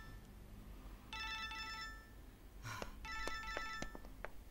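Phone ringtone chirping in two rapid electronic bursts, fairly faint, set against a quiet indoor room with some background clatter.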